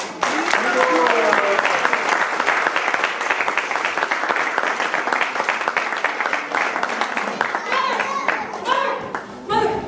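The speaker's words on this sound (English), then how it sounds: "Please give a round of applause." Theater audience applause fills the hall, dense sustained clapping with cheering voices mixed in, and children's voices and chatter rising near the end as it continues.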